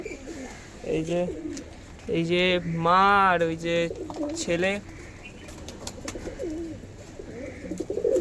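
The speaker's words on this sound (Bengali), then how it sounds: "ভাই আজকে পায়রা ছেড়েছে।" Pigeons coo on a rooftop in a repeated, throaty rolling rhythm, loud and close, with someone talking in between and over the calls.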